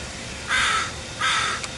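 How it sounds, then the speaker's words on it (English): A crow cawing close by outdoors, two loud, harsh calls separated by a short pause, heard over a steady background of traffic. "And there's a crow right next to me"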